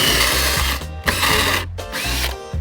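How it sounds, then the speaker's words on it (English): A temperamental electric drill whines at high speed in bursts, cutting out briefly twice and spinning back up, loud and close, with no talking. "this drill's a little bit, she's a little bit temperamental"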